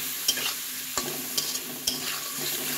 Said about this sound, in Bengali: এই যে আমি এখন আলুগুলো আগে একটু ভেজে নেব।